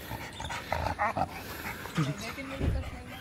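An Alaskan Malamute barks at a house window, giving a few short, moderately loud bursts mixed with people talking and laughing nearby.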